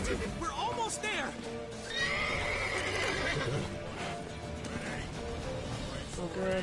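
Horse whinnies and neighs mixed with hoof clatter in Witcher 3 gameplay, a busy, loud soundscape with other game noise and people talking over it throughout.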